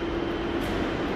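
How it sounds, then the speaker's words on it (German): U-Bahn metro train in a city station area, a steady loud rumble of the passing train with continuous rail noise throughout, no voices. "Hier fahren zwei U-Bahn-Linien, da sieht man sie schön."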